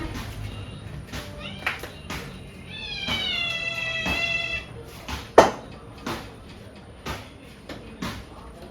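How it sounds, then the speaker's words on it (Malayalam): A hungry cat waiting to be fed gives a few drawn-out meows close by, with a sharp clatter and quiet household sounds around it. "എൻ്റെ പൂച്ച കുറേ നേരമായി കാത്തിക്കണം, പൂച്ചക്ക് കൊടുക്കട്ടെ കേട്ടോ."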